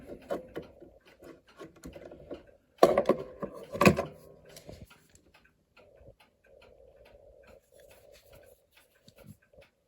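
Steady ticking of a 130-year-old Seth Thomas Eclipse clock with pendulum, close and fairly quiet, with a few louder handling knocks and rubs partway through.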